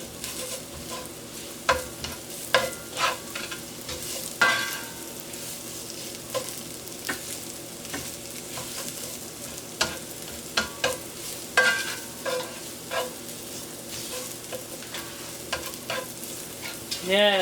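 Plant-based Beyond sausage is broken into bite-sized pieces and fried in a pan, a low sizzle under repeated sharp scraping and tapping strokes from a utensil, close and irregular, with no talking.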